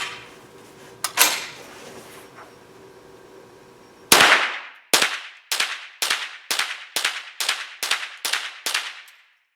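A Ruger 10/22 rifle emptying a 10-round magazine outdoors: after a couple of earlier pops, about ten sharp, loud shots ring out in a steady rapid rhythm, each with a short decaying echo.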